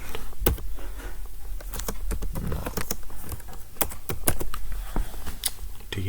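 Computer keyboard keys clatter in fast irregular bursts while C++ code is typed, close and steady over a continuous low hum, with someone speaking intermittently throughout.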